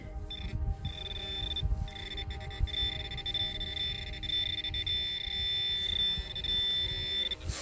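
A metal detector gives a steady, high-pitched electronic signal tone while sweeping a field. It holds for several seconds over low rustling and wind, and there is no talk.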